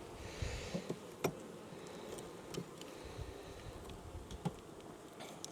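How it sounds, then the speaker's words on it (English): Honeybees fly around a swarm box in goldenrod season, a steady soft buzz of many insects coming and going, with a few louder passes close by. "there's a lot of bees coming and going from this thing"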